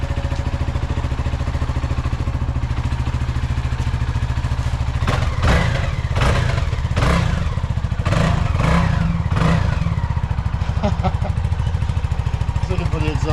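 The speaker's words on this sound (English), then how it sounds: "What does it sound like when you rev it?" A CF Moto motorcycle engine runs steadily, then revs up in several sharp bursts before settling back, with talk underneath.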